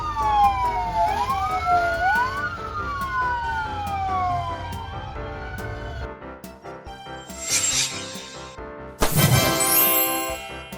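A small fire command vehicle's siren wails in rising and falling sweeps for about six seconds, loud and close, followed by a few other brief bursts of noise.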